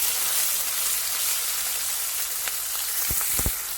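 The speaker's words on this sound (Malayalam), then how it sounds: "ഞാനിവിടെ സബോള ചതച്ച് ഇട്ട് കൊടുക്കുന്നത്" Crushed onion hisses in a hot pan for a green gram stir fry: a close, loud, even sizzle like rain, with a few light taps of a utensil at the end.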